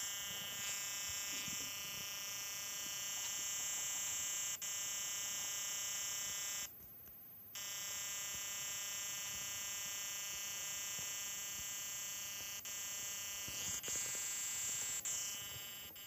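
A fire alarm in a CFP fire alarm video game blares a continuous high electronic tone, cutting out briefly midway before resuming steadily.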